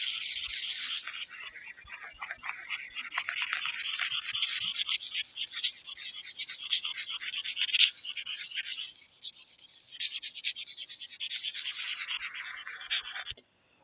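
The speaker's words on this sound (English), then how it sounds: "So let's rub out all this stuff." Steady rubbing and brushing as writing is erased from a board during a mathematics lecture, a continuous scrubbing sound that rises and falls in short strokes for over ten seconds before stopping.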